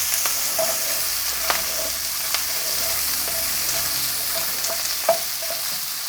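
Onions sizzle steadily in a hot pan for a Chinese-style baked pork chop and tomato dish, with a continuous crackle broken by a few sharp clicks and taps of utensils, close and alone.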